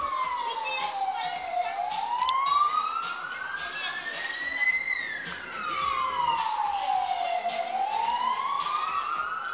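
A wailing emergency siren, reportedly a fire engine's, rises and falls in long sweeping cycles as it approaches during a wildfire response on Tenerife, with children's voices and outdoor chatter mixed underneath.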